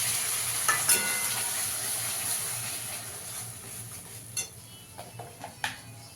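Ground onion sizzles steadily in hot oil in a pan as tomato paste is added for a fish curry. A spoon stirs and scrapes against the pan in several short, sharp knocks over the soft sizzle.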